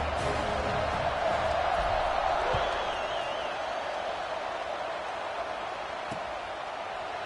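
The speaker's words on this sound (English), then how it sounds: "this crowd is buzzing after that last score" A football stadium crowd at an Iowa Hawkeyes game fills the air with a broad, steady roar, loud at first and easing slightly, with a sharp thud or two cutting through.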